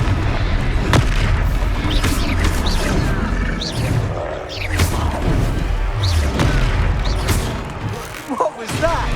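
Confringo fire blast spell from the Hogwarts Legacy video game, erupting as loud booming explosive bursts among ongoing combat effects, with several heavy thuds and crashes across the span.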